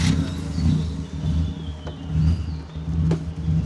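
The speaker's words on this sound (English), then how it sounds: "Off we go on our tuk-tuk tour." Tuk-tuk engine in Bangkok pulling away, a close, rough mid-pitched motor rumble that surges and eases in waves as it revs and moves off, with a few faint sharp clicks over the top.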